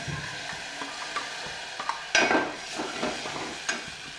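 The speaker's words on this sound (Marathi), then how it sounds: "आता याच्यामध्ये मी हे दही टाकून घेतलं" Soft sizzling in a hot pan as yogurt is stirred in for kadhi, with a few scraping spoon strokes.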